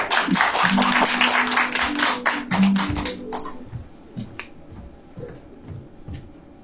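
Audience at a children's acting showcase of fables clapping, with dense applause for about three seconds, then thinning to scattered single claps as the crowd settles.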